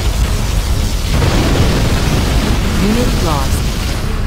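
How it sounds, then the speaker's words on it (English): Nuclear missile explosions boom in the real-time strategy game C&C Generals Zero Hour during a 2v2v2v2 battle, a constant loud roar with a few rumbling bursts. A game voice announces a unit loss over the din. "Warning, nuclear missile launched."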